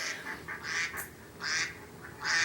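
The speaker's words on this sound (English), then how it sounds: "I thought I would put some sounds on so we can hear ducks for a little bit." Several ducks quack close by in short, overlapping bursts, a lively back-and-forth chorus of nasal calls.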